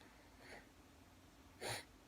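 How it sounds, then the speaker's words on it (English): Two short breathy nasal sniffs, a faint one followed by a louder one about a second later, in a quiet room. "you can probably hear me. I'm sniffling here."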